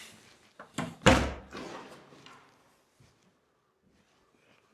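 A door closes with a sharp thud preceded by a couple of softer clicks and knocks, then quiet follows.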